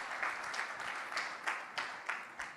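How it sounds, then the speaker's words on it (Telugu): An audience applauds steadily, a dense wash of clapping running throughout with a few louder surges and no talk over it. "క్లాప్స్"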